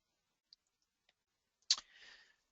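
Computer mouse clicking at a desk, a couple of tiny faint clicks followed by one louder sharp click with a short rustling tail, close and otherwise quiet.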